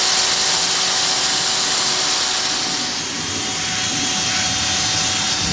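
An adapted drill with a flexible shaft, used as a milling tool in a workshop, runs with a steady, loud, whirring roar throughout, with no pauses.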